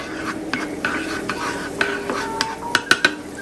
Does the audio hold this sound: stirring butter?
yes